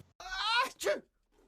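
A single close, sharp sneeze-like burst with a voiced onset, followed by a brief pause and faint trailing noise.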